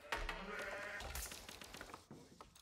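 Sheep bleat in the video game Age of Empires IV, with a couple of wavering bleats close together that sit faint and low in the game mix among other quiet interface and ambient sounds.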